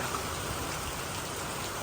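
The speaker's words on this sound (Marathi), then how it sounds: "अरे भोई लय पाऊस आला रे" Dense, steady rainfall hisses evenly throughout, a broad wash of falling water with no voices or breaks.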